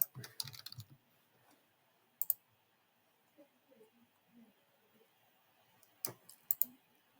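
Keys tap on a computer keyboard and a mouse clicks as a search is entered, with short bursts of close, quiet clicks separated by near silence.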